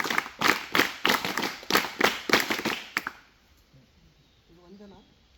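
A Scouts and Guides group claps in a tight rhythmic pattern, a few seconds of sharp, loud, evenly spaced claps that stop abruptly, followed by a quiet pause and faint talk.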